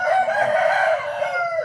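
A rooster crows loudly and close in a single drawn-out call, with chickens around on a Thai poultry farm, the crow tapering off near the end with no talking.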